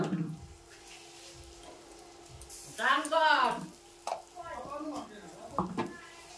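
Rice fries in a pan with salt and ginger paste, making a soft, close sizzle with stirring scrapes, and a voice speaks briefly over it midway.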